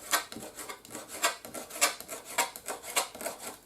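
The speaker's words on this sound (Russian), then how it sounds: "Петрушку тоже режем." Knife chopping fresh parsley on a board in a village kitchen, a steady run of about ten crisp, close rasping cuts in an even rhythm, with no talk.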